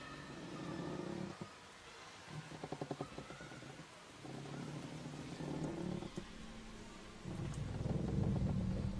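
A thunderstorm with rain in a Hindi horror film: steady rainfall with rumbling thunder rolling through and building louder toward the end.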